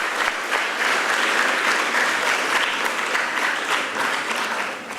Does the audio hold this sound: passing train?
no